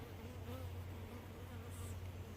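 A swarm of bees buzzes in a dense, continuous drone close to the microphone, with no voices over it.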